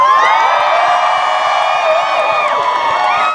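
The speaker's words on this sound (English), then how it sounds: "So a round of applause." A crowd at a student rally cheers loudly, with whoops and shouts in a dense, sustained roar close to the microphone for the full stretch.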